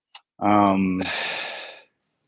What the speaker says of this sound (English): who's breathing all weird